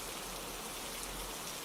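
Steady rain falls on a quiet rainy autumn night, a soft, even broadband hiss with no distinct drops standing out, faint and continuous throughout.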